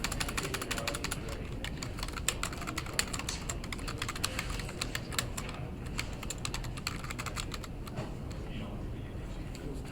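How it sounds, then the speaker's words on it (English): Rapid typing on a computer keyboard during a programming lecture, a dense run of close, crisp key clicks with an uneven rhythm that continues throughout. "Typing skills."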